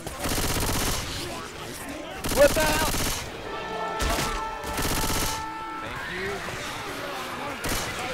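Rapid bursts of gunfire from survivors shooting at zombie hordes in the video game Left 4 Dead 2, with loud clustered volleys separated by brief pauses and players talking over the shooting.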